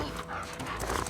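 Dogs in The Last of Us Part II, a short burst of barking and panting-like sound in a busy game mix, close and fairly loud with dense background noise.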